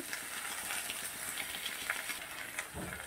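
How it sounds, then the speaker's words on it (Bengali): Green chillies and ginger paste fry in a pan of oil with onions for a bottle gourd and bata fish dish, giving a steady close sizzle and crackle with occasional stirring scrapes and no voices. "কাঁচা লঙ্কা দিলাম, দিয়ে আরও কিছুক্ষণ ভেজে নেব"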